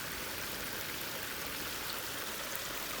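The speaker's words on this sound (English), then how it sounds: "On this waterfall that just got built." Steady rushing water from a small, newly built waterfall in a city permaculture garden, an even, continuous splashing flow close by with no voices.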